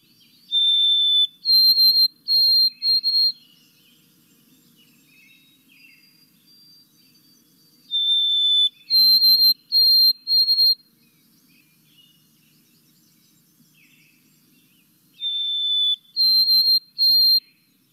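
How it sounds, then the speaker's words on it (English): A recorded song from a winter bird species with white and tan morphs repeats three times: each phrase is a clear, high, thin whistle followed by a few quick repeated notes, with quiet gaps between phrases and no talk. "This is a species that tends to sing quite a lot while they're here in the winter."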